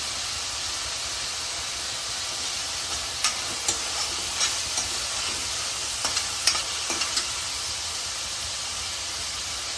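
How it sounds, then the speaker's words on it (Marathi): Curry leaves sizzle in hot oil while cooking a methi leaf dish, a steady loud hiss of frying throughout with a few light stirring taps on the pan, no talking. "कढीपत्ता घालते"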